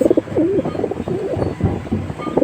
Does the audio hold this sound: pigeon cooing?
yes